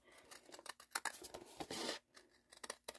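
Scissors snipping a clear plastic stamp storage pocket close to its stitched edge, with a series of quiet, crisp cuts and a longer slicing stroke, close up and with no talking.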